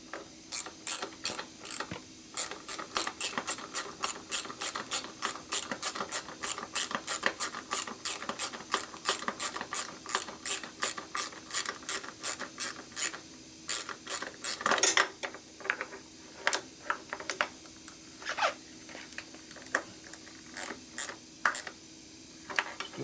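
A ratchet wrench clicks in quick, steady bursts of close, crisp pawl ticks while work goes on at a Harley-Davidson Sportster custom, with a short pause and a slower, uneven run of clicks near the end.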